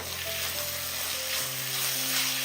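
Green mango rice with ground coconut paste being stirred in a hot pan, a continuous close sizzle with a faint steady tonal hum underneath and no speech.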